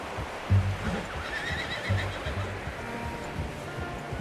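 A horse in the video game Red Dead Redemption 2 gives low, snorting whinnies with faint hoof clops, quiet and close, over soft outdoor ambience.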